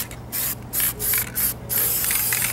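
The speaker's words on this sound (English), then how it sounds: "And again, start to spray." Spray paint hisses onto a robot project in several short bursts, each a loud close hiss separated by brief pauses, with no talking.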